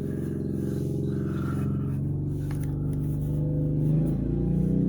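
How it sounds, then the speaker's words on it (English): Side-by-side utility vehicle engine running at a steady idle nearby, a continuous low droning rumble that swells slightly toward the end, with faint scraping and clatter underneath. "I'll have to excuse the noise. My husband's on the side-by-side, making sure it's running."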